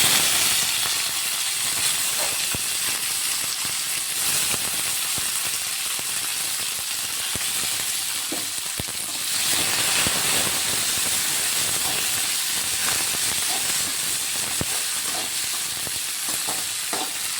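Green chillies and coriander hit hot oil alongside roasted peanuts, giving a steady, close sizzle and hiss with occasional crackles and stirring clicks throughout, no voices.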